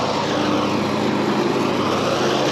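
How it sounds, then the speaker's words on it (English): Grass trimmer running nearby outdoors at the Hill of Crosses, a loud, steady buzzing drone with no letup, filling the whole clip. "Sorry about the noise, this guy trimming the grass"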